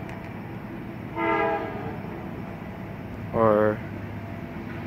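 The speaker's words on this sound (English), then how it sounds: "Here comes Amtrak." An Amtrak train passes in Opa-locka, Florida, sounding two clear horn blasts a couple of seconds apart over a steady rumble, with a brief spoken word.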